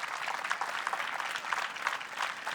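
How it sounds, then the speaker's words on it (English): Steady crowd applause from an audience honoring wheelchair tennis doubles finalists at the close of a Masters tournament event in Mission Viejo, dense clapping filling the space without talk. "one last round of applause for our 2016 finalists and our reigning champions"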